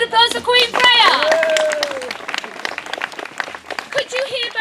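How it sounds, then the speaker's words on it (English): A festival crowd claps for a costumed Queen Freya at a Robin Hood event, with applause running under a voice and scattered cheering throughout. "Ladies and gentlemen, a round of applause for Queen Freya."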